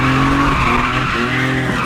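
A BMW E36 drifts with loud, close tire squeal and skidding that wavers in pitch across a short burst.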